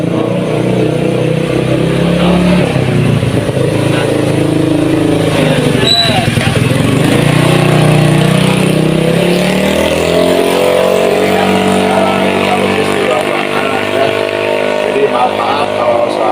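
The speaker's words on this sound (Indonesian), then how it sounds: "Maaf kalau ada Suara motor Bising gitu ya." A motorcycle engine drones loudly and steadily near a studio under renovation, its pitch rising and falling as it revs, running under continuous talk throughout.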